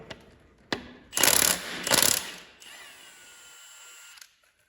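An impact wrench on a 19 mm socket hammers at the harmonic balancer bolt of a GM 3.6 engine in two loud, rattling bursts after a short click, then a softer whirring spin-down.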